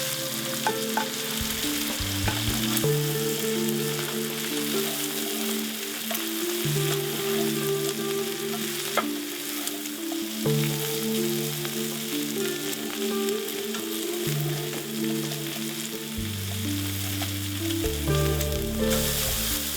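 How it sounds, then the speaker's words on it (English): Mushrooms fry in oil in a pan, giving a steady, continuous sizzle with occasional stirring scrapes over low, shifting background tones for the whole stretch, and no one speaks. "The mushrooms are starting to brown and reduce in size."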